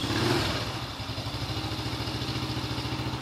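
A healthy motorcycle engine idles smoothly and steadily close by, its even low pulsing running alone without any talk, after a brief louder burst at the start.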